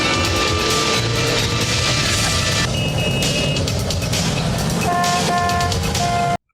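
A car horn honks repeatedly in busy traffic in the Maniac Cop film, loud and continuous with overlapping toots and a dense hum of traffic, then cuts off abruptly at the end.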